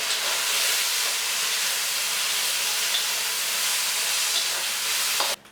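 Black bean sauce marinade sizzles loudly in a hot pan of noodle stir fry, a steady broadband hiss that holds for about five seconds before cutting off abruptly.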